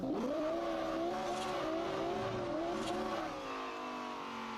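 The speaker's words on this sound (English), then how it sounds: "Why would I not want to drive really the best sounding car in the world? Wow, we got the LFA." A Lexus LFA engine revs repeatedly in the Forza Horizon racing game, its high, sweeping tone rising and falling through several throttle blips, loud and close without talk.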